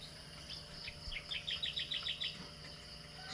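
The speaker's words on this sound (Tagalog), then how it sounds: "Mayroong sumagot na ibang ibon din, ibang tunog." Small birds chirp in a quick run of repeated high notes, with a few other scattered calls, during rainy, cold weather; faint and distant over a steady wash of rain and background hiss.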